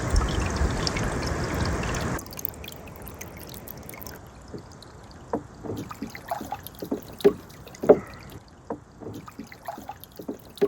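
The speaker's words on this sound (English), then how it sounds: "I'm gonna go fill up my gallon jug with creek water" A gallon jug fills with creek water: a steady gushing pour at first, then irregular gurgles, trickles and splashes outdoors as the water settles.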